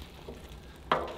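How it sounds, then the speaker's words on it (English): An eggplant dish on top of a wood stove in an off-grid yurt gives a soft, steady frying hiss, with one brief louder sizzling burst near the end. "now this eggplant dish is sizzling"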